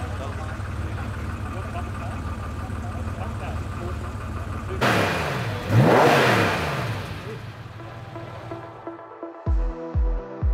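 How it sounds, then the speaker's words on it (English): A pro street style car runs outside at a MotorEx show, its engine revving hard with a loud surge midway before settling into rough idle pulses, people talking nearby. "Proper street car, outside here, running."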